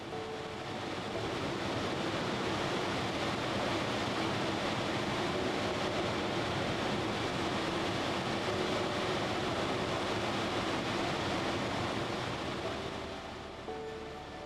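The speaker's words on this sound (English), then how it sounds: "The waterfall is one of the more extreme forms of nature that, in addition to viewing, can be heard and felt." Abiqua Falls, a large and powerful waterfall, roars as a steady, dense wash of broadband noise. It holds evenly throughout and eases slightly at the very end, with no voices over it.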